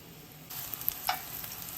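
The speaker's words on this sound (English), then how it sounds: "Then add your mushrooms cut side down" Mushroom pieces dropping cut side down into a hot oiled pan, for vegan scallops: a sudden, close sizzle that begins mid-clip and keeps crackling, with a small clink, no talk.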